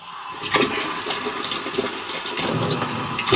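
Water gushes steadily from a tap, a continuous broadband splashing that stays loud throughout with slight surges.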